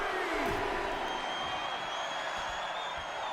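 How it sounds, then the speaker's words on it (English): Arena crowd in the WWE 2K wrestling video game cheers and roars, a steady wash of noise with a brief rise near the start, mid-loud throughout. "The sound of this crowd is deafening, and he's asking for more."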